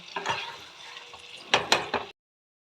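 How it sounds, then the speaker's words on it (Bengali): Boiled food is mashed by hand in a bowl, with soft squelching and clicking strokes coming in short irregular bursts, close and fairly quiet, before it stops abruptly. "সব কিছু সেদ্ধ করা রয়েছে এটা একটু মাখা মাখা করবো"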